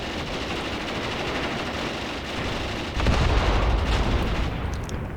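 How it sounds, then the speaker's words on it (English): A tank fires on anti-tank gun positions in Graviteam Tactics, with steady distant gunfire rumble followed by a louder, heavier burst of firing and booming that keeps going to the end. "the tank is definitely trying to hit my anti-tank guns, I think. It's shooting at them"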